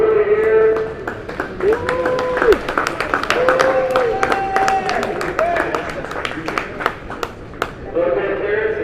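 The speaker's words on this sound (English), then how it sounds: "Big round of applause for Willie here" A small crowd at an indoor kart raceway's race awards gives an irregular round of applause, with sharp individual claps over voices and chatter.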